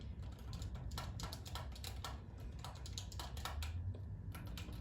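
Keys on a computer keyboard clatter in quick, irregular bursts of clicks while gaming, moderately close over a steady background hum, with no voices.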